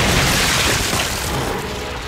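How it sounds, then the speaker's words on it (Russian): A big enemy carrier blows apart in the Gears 5 video game with a loud, sustained roaring explosion that fills the whole moment and slowly tails off. "ты что, каждый носильщик вот так взрывается?"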